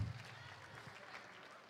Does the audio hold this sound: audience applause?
yes